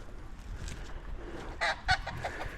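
Chickens cluck faintly at a distance outdoors, a few soft scattered calls with a couple of slightly louder squawks, set against low background noise.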